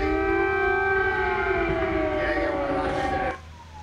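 Civil defense air raid sirens sound a warning of an attack, steady rising and falling wails held loud and continuous for several seconds before cutting off abruptly near the end.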